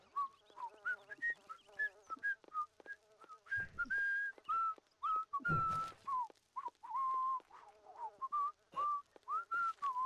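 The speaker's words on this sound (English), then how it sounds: "God, I can hear her whistling for miles." A lively whistled tune of short rising and falling notes from a character in The Sims plays on and on, with a couple of brief noisy bursts partway through.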